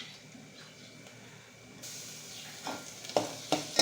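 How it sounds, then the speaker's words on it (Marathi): Ginger garlic paste frying with browned onions in a pan for a sprouted moth bean curry, a low steady sizzle that brightens partway through, then a few sharp scraping stirs near the end. "आलं लसूण चांगलं लालसर होईपर्यंत परतून घ्यायचं"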